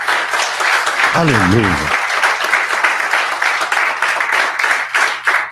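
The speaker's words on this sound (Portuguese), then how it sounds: "dê mais um aplauso a Ele" Loud, sustained applause from a church congregation that keeps going throughout. A voice briefly calls out over the clapping partway through.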